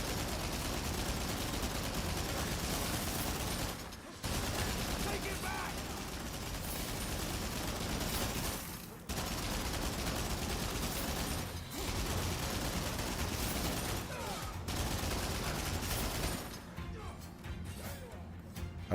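Gunfire in Rise of the Ronin, a dense, loud wash of crashing shots and impacts with brief gaps and a quieter tail.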